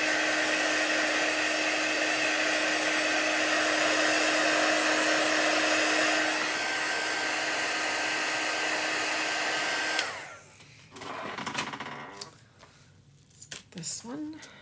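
A hair dryer drying chalk artwork blows in a steady, loud whine for about ten seconds, then cuts off, leaving quieter handling noises and brief clatter.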